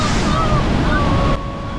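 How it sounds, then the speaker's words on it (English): Roaring rush of Niagara Falls water pouring past at close range, a dense continuous wash with wind buffeting the microphone, cutting abruptly to a quieter level near the end. "millions of gallons of water is rushing by you"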